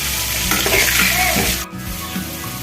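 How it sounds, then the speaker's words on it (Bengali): Potatoes fry with turmeric in a pan, sending up a loud, close sizzle and crackle. The sound cuts off briefly partway through, then picks up again. "এবং বন্ধুরা তাহলে আমি আলুগুলো ভেজে নিই।"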